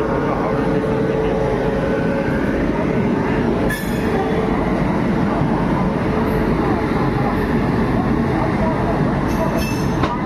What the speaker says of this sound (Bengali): আমাদের ট্রেন এখন সময় মতো বেরিয়ে পড়লো হাওড়া স্টেশন থেকে।